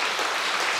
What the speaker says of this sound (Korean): 이럴 때 박수 한번 치세요 그냥